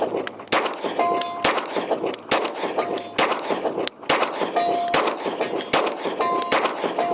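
Staccato pistol with a Parker Mountain Machine compensator firing at a humanoid C-zone steel target 100 yards out: about a dozen sharp shots in steady rhythm, each followed by a faint, delayed metallic ring of steel.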